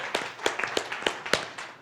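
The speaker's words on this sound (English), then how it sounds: "huge round of applause for Mrs." Scattered handclaps from an audience at a book launch and talk-show celebration, about six distinct sharp claps in quick succession, fairly close and not yet building into full applause.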